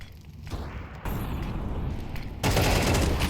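AK rifle fire in a Counter-Strike match on the Vertigo map, loud dense bursts of rapid shots that crackle continuously and swell sharply louder toward the end, with no talking.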